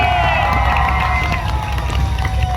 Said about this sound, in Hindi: और हूटिंग सुनो अब इसी बात में